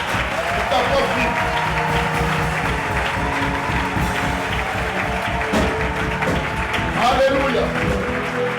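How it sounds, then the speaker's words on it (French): A church conference audience applauds steadily and loudly throughout, a dense continuous wash of clapping with crowd noise and voices mixed in. "Maintenant, acclame Jésus pour ta propre vie."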